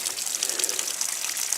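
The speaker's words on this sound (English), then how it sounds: "water flows just like it's supposed to" Water gushes steadily from a garden tap, a continuous close, fairly loud splashing rush with no voices.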